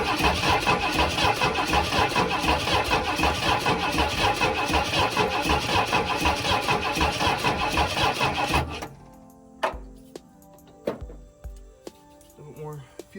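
A party barge boat's 460 engine cranks in a fast, steady, rhythmic churn for several seconds without catching, then falls silent, leaving only scattered clunks and faint sounds nearby.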